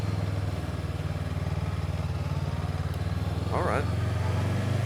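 A motorcycle engine hums steadily and low during a ride through town in Beverly Hills, Cebu, with a brief voice speaking over it near the end.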